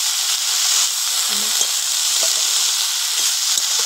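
Young tamarind leaves hit a hot pan of oil, giving a steady, close sizzle and hiss with faint stirring taps underneath.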